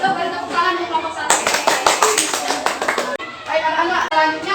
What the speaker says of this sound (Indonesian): Silakan boleh itu beri tepuk tangan di kelompok 1.